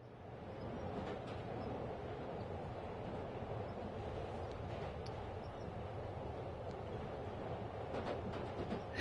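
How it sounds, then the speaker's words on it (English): A New York subway train in the Spider-Man PS5 video game, a steady, fairly faint rumbling roar of a train running throughout, with no speech. "Take in the beautiful sights and sounds of the New York subway system."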